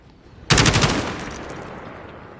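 A rapid burst of about five gunshots from a Kilo rifle fired while aiming down sights in Call of Duty, sharp and loud, followed by a decaying reverberant tail.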